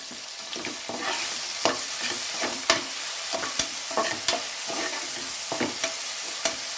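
Ginger, garlic and green onion sizzle steadily in a hot pan for mushroom biryani while a spoon scrapes and clacks against it in an irregular stirring rhythm.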